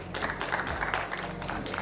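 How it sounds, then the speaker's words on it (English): Audience applause at a live SREday Hyderabad technical conference session, a steady wash of clapping from a seated crowd lasting a couple of seconds with some faint voices mixed in. "One big round of applause for Mark, who has traveled all the way from"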